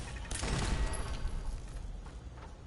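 Automated turret fire in the video game Fallout 4 rattles out in a loud, rapid burst that swells early and then trails off into a dense, fading spray of shots.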